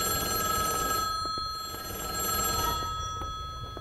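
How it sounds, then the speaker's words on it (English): A telephone rings with a steady electronic bell inside an airport, sounding in repeated bursts over background hum. "Yes, phone, I hear you."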